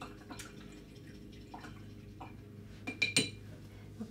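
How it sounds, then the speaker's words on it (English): A paintbrush is rinsed in a water container while painting on canvas, giving faint close sloshing, drips and a few light clinks of the brush against the container. "I'm gonna rinse my brush"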